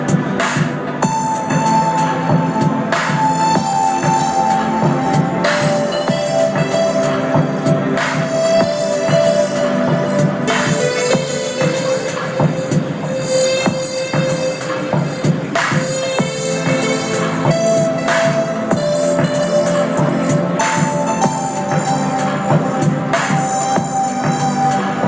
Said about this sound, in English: what you hear now is Punch, together with Predator, for the pad sound